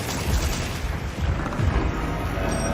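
A Gunlance Wyvern Fire blast in Monster Hunter, heard as a dense, roaring explosive rumble that continues without a break for about three seconds, with no speech.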